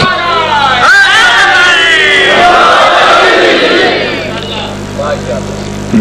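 A large gathering at a religious sermon on Hazrat Ali loudly chants a slogan in unison, a surging wave of many voices that swells for several seconds and then fades, with a voice heard near the end.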